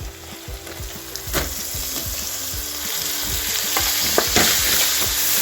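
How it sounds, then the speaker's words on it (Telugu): Chopped tomatoes fry with turmeric in a pan, giving a steady close sizzle under rhythmic scraping strokes of a spoon stirring them, with no talk. "ఇది కొంచెం మెత్తగా అయ్యే వరకు ఫ్రై చేసుకుందాం"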